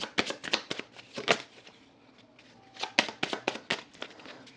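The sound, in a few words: shuffling rune cards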